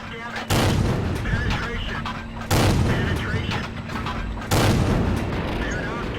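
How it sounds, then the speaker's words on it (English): Tank cannon fire in World of Tanks from a T-34 tank, three heavy booming shots spaced about two seconds apart, each loud with a rumbling tail, and someone talking throughout. "just send some shots downrange and take him out"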